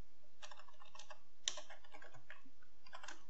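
Soft, rapid keystrokes on a computer keyboard in short bursts with brief gaps, close and quiet, with no voices.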